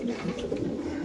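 Male club pigeons at a pigeon sale, cooing softly and steadily at close range over a low background murmur, with no clear talking.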